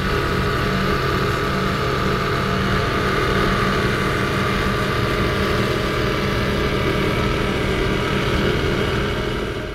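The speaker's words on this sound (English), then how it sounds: "this Project 1080 powered by Mercury Racing 540s, and they are loud" A Project 1080 powerboat driven by Mercury Racing 540 engines roars loud and steady at close range, a dense unbroken engine drone with no voices over it.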